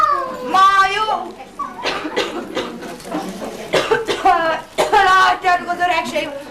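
An elderly man playing Santa Claus at a kindergarten celebration coughs several times between stretches of his own voiced, drawn-out speech, loud and close.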